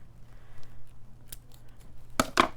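Scissors trimming a plasticky white Christmas bow ribbon, a faint snip and then two crisp close cuts near the end over quiet background hum.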